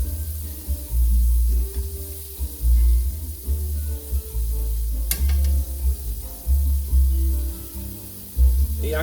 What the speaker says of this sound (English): I'll just let it kind of fry in the rest of its juices as it's finishing up